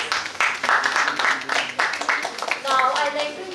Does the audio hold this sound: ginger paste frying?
no